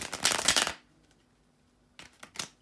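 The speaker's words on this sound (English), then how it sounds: "finish shuffling the cards." Tarot cards being shuffled by hand: a dense, loud riffling burst in the first moment, then quiet, then two shorter shuffling bursts near the end.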